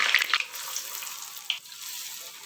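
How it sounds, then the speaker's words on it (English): Hot oil hisses and sizzles steadily at close range as Bengal gram and dill lentil fritters are dropped in one by one, with a few brief sputtering pops; no voices. "I am going to drop the chat ambodos one by one into the oil."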